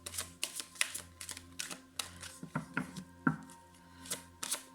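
Tarot oracle cards handled and laid out for a cross spread, giving a run of close, crisp paper snaps, flicks and taps in irregular bursts, heard on their own against a faint steady hum.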